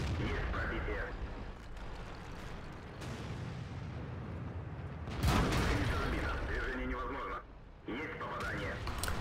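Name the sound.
gunfire in a video game battle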